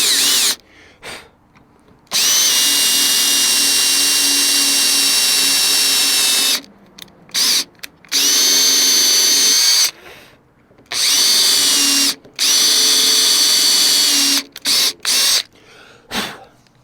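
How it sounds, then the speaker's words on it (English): A small power drill bores into the steel of a Freightliner FLD fuel tank next to an aluminum block, a loud, steady high whine in long bursts that start and stop, with short pauses between runs. "small drill bit."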